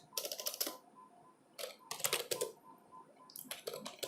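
Bursts of computer keyboard typing while a message is entered into Java code, quick clattering keystrokes in three clusters separated by short pauses, close and moderately loud.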